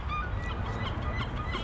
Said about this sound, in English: Yeah, we have the seabird.